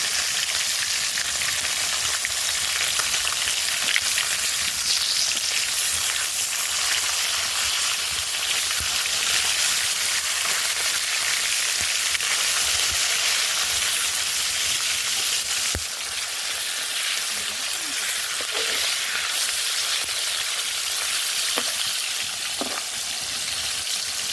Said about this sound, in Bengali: মাছগুলো এক পিস করে ভাজা হয়ে গেছে, এবার আরেক পিস ভাজার জন্য উল্টে দেবো।